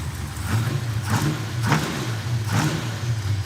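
A Camaro's 400 cubic inch V8 with a 1,000 CFM carburetor and a small header leak revs up close and loud, with four rhythmic throttle blips rising over a rough, burbling idle.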